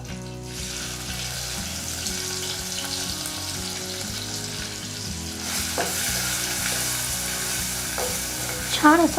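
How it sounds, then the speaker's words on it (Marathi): Crushed garlic, green chili and cumin frying in hot oil for a horse gram soup, a steady close sizzle with stirring scrapes throughout, rising in brightness partway through, with a brief spoken remark near the end. "इथे तेल गरम झालेलं आहे आपण आता यामध्ये आपण जे कांडून घेतलेलं होतं लसूण मिरची आणि जिरं ते टाकूया"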